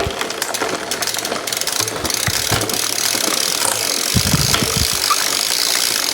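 Shimano GRX gravel bike drivetrain being shifted, with a continuous mechanical whir and ratcheting, brief clicks and clunks of gear changes, close and fairly loud, without speech.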